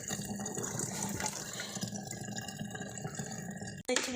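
Water pours steadily into a portable washing machine tub, a continuous close splashing gush that ends abruptly near the finish, followed by a brief clatter.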